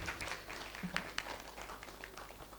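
Audience at a parenting seminar at Upasana Vidyalay school in Palanpur applauds to welcome a speaker; faint, dense, steady clapping continues for the whole stretch with no voices over it.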